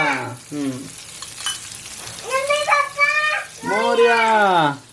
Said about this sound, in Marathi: तेल तापलंय लसूण घालते लसूण ब्राऊन झाले